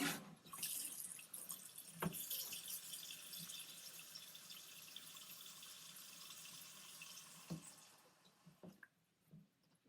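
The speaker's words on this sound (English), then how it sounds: "We are about to put about an inch of water in here" Water pours steadily from a tap into a pot of lamb's quarters greens, a continuous hiss and splash that tapers off near the end, with a few soft knocks and drips.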